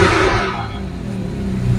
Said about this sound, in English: I'm going to start the car up now